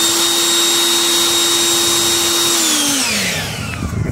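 A Harbor Freight Bauer leaf blower runs loud and close with a steady whining motor roar and rushing air, then its pitch drops as it begins spinning down near the end.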